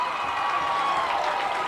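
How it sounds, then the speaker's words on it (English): Home crowd at a high school 6A baseball consolation semifinal, Lehi against Davis, cheering in a steady dense roar that holds at full strength for the whole moment. "The Lehi crowd explodes."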